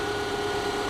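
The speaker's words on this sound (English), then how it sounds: "Look at the Boxer engine." A Subaru boxer engine idles steadily at close range, a continuous even hum with a low rumble and a faint tonal whine, no voices over it.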